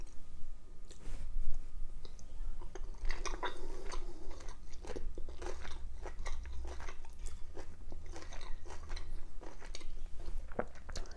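Crunchy, wet chewing of Szechuan-style steamed fish with tofu, chili and ginger, close to the mouth, with irregular bites and mastication continuing steadily and fairly loud throughout, no talking.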